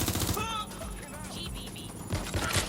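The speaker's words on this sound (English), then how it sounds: "I think I just got shot." Gunfire from the video game Watch Dogs Legion, a brief burst of rapid shots at the start followed by scattered distant pops and muffled impacts amid game ambience, with speech in the background.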